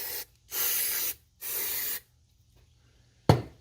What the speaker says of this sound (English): you want to make sure you spray them with brake clean real good